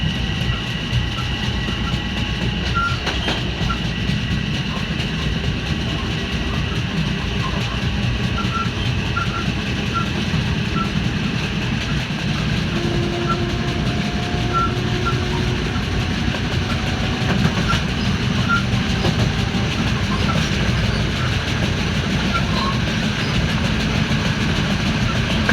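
Metro-North commuter train running on rails between Melrose and White Plains, a steady loud rumble with faint rhythmic clicking of wheels over rail joints, continuous throughout with no talking.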